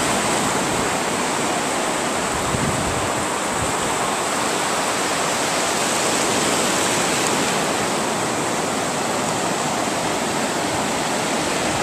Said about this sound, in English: take my guitar and write a song with the waves